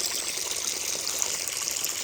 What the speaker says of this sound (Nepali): यहाँ त पानी पनि भरिँदैछ